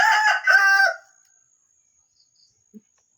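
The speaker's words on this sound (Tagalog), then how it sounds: "Napakaganda ng tilaok" A single loud, close crow from a red junglefowl roundhead rooster that lasts about a second, followed by near silence with a couple of faint distant clucks.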